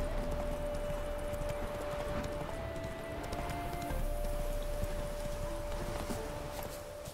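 Roach, Geralt's horse in The Witcher 3, walking with steady clip-clop hoofbeats under a constant ambient game soundscape with a sustained tone, no talking.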